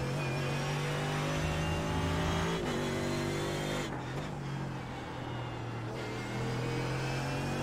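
Mercedes-AMG GT3 race car engine in the iRacing simulator at Spa-Francorchamps, a loud sustained high-revving drone climbing through the gears with brief dips at shifts, steady and close throughout.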